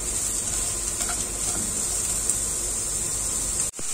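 Mushrooms stir-fry in a hot pan with Chinese lettuce, giving a steady, close hiss of sizzling oil with faint scraping stirs, ending in a brief sharp clatter.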